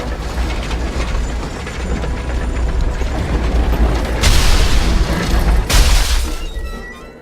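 A train pulls in from a station in the video game Syberia 3, a steady rumbling rail roar under heavy low-end noise, swelling with two louder bursts near the end as it arrives.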